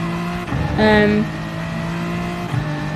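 Race car in GT Sport braking into a corner, engine note dropping through downshifts with a brief rising blip, loud and close, with a voice talking over it.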